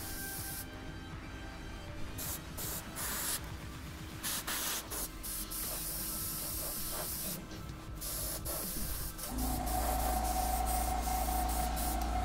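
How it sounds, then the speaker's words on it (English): An airbrush sprays paint onto a Jurassic World Indoraptor art piece, a steady close hiss that sputters and cuts in and out in short bursts, then holds a louder continuous spray near the end; no one speaks. "How do you get your airbrush to run smoothly?"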